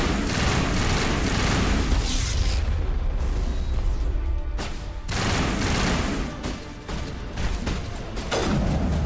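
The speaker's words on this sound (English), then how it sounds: "I just kind of opened fire." Sustained gunfire from the video game Mass Effect: dense rapid bursts and booms, loud and close, pausing briefly before resuming, with no talk over it.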